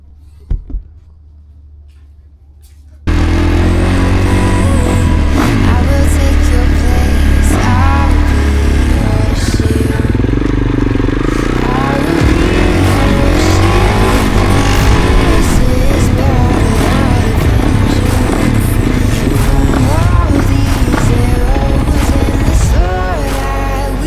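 A Kawasaki motorcycle engine cold-starts after six months unused, cranking and firing up after a few quiet seconds, then settling into a loud, steady, slightly uneven idle close by.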